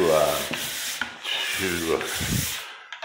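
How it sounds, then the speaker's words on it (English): A hand sanding tool rubbed up and down a wall in a room being finished, giving long raspy scraping strokes, close and loud, about three passes with short pauses between them. "There's this thing right here that you manually rub up and down the walls to"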